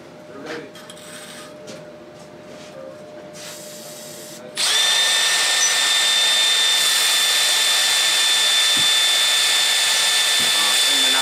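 A power drill whines up to a loud, sustained high-pitched spin while cleaning out bolt holes during a Maverick X3 shock suspension upgrade, following a quieter stretch of workshop handling sounds.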